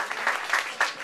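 Applause from a crowd at a tech meetup in Hong Kong, a short burst of clapping with a few sharp, distinct hand claps standing out from the softer background clatter.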